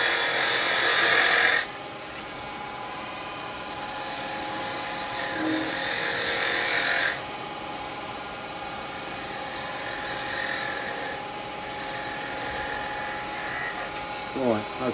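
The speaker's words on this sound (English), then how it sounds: "Just going to shape it a little bit with a square chisel." A carbide square chisel shapes a wooden bottle stopper spinning on a lathe, giving a steady scraping, whirring hiss with louder cutting bursts that come and go, while a voice talks over the work.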